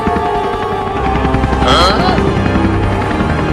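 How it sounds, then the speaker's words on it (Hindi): A cartoon helicopter lifts off with a loud, steady rotor hum and whir, with a rising whoosh midway, all under layered cartoon voices and background music. "अब हेलीकॉप्टर को ऊपर करो"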